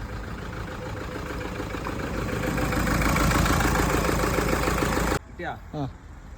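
A Toyota Fortuner engine with a piston fault, also blowing white smoke and misfiring, runs with a loud rough drone that rises as the throttle is opened, then cuts off abruptly, after which a voice speaks briefly.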